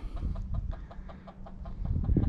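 Chickens cluck by a coop in a gravel-covered yard, a steady run of short, rhythmic clucks close by, with no talking.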